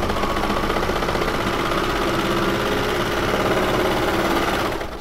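A serger sewing machine stitches the bottom edge of a surgical face mask, running at a fast, steady, loud mechanical whir before slowing and stopping at the end.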